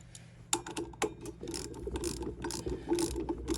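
A ratchet tightens a bolt on a mini bike, giving rapid metallic clicking strokes in quick repeated bursts, close and moderately loud, with no speech.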